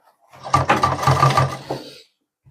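A sewing machine stitches the waistband of men's trousers during an alteration, giving one short, close whirring burst of about a second and a half that starts and stops abruptly.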